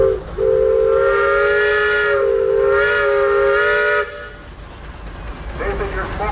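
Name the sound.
1912 75 horsepower steam engine running at parade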